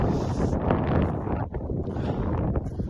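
Wind at a wild camp, around 15 mph, buffets the microphone in a steady broadband rush with gusty swells and a brief lull midway, loud and close, no voices.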